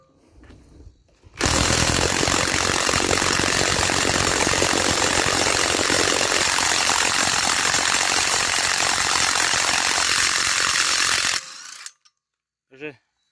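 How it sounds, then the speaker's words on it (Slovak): A cordless impact wrench set to its 120 Nm mode hammers steadily at a tight bolt for about ten seconds, a loud continuous rattling burst that starts and stops abruptly. "vyskúšam povoliť skrutku."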